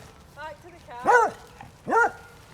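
Two or three dogs give short barks and yips outdoors in woodland by a river, fairly close, in quick bursts with quiet gaps between them.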